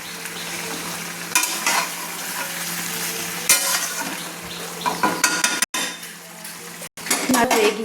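A spatula stirs spicy chicken frying in a pan, giving steady sizzling with repeated scraping and clinks of metal against the pot, close and fairly loud, with a couple of brief dropouts.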